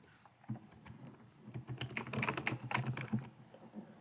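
Someone types on a computer keyboard during a tabletop role-playing session, producing a steady run of soft, close key clatter that builds and then tapers off, with no talking.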